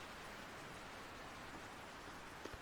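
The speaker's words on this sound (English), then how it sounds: "the rain's doing its job at least" Steady rain falling in the sailing game Sailwind, a dense even hiss of drops on deck and water with no pauses, continuous and moderately loud throughout.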